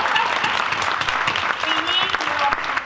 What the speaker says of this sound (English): let's give the women an applause.